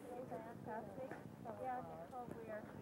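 Hooves of a horse trotting on the ground during a veterinary gait check, a steady clip-clop rhythm mixed with a person talking over it, quiet and at a moderate distance.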